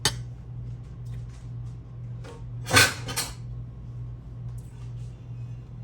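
A cooking pan is set down and handled in a home kitchen, giving one sharp metallic clank and a softer knock just after, over a steady low hum.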